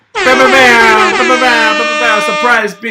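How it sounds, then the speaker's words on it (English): A loud, blaring air horn sounds continuously for nearly three seconds with a slightly wavering pitch, then cuts off abruptly. "Let me do some air horns."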